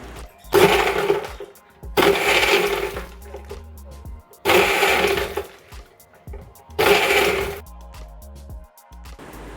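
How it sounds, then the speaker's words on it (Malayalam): A kitchen mixer grinder run on pulse mode, churning cream with ice into butter, roars in four loud whirring bursts of about a second each, separated by short pauses. "ഇത്തിരി ഐസും കൂടെ ഇട്ട് പൾസ് മോഡിൽ മിക്സി റൺ ചെയ്താൽ നല്ല വെണ്ണ കിട്ടുമെന്ന് കേട്ടിട്ടുണ്ട്"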